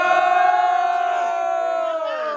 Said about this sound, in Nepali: एकचोटि सबले हुटिङ गराउन जाने